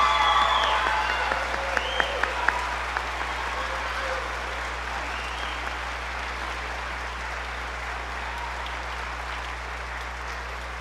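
An audience at a spring school choral concert applauds choir students, steady dense clapping from a full room that starts strong with a few sharp claps standing out, then holds evenly and slowly thins toward the end.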